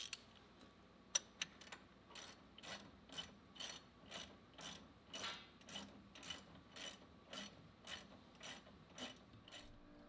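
A wrench ratchets steadily on a bolt in the steering of a Jeep Wrangler TJ, with about a dozen evenly spaced clicking strokes that sound close and fairly quiet, and no talk.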